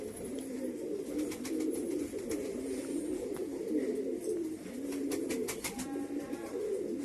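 Pigeons coo steadily in a soft, repeating low murmur, several birds overlapping at a moderate distance, with faint chirps and clicks scattered above.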